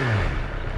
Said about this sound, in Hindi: आवाज़ बहुत ही स्मूथ आ रही है बाइक की,